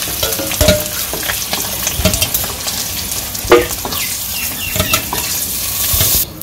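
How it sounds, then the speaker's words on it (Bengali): Eggs frying lightly in a pan for a village-style egg curry, a steady close sizzle broken by scraping stirs and a few sharper clinks of the spatula. "তো ডিমগুলো হালকা ভেজে নিচ্ছি"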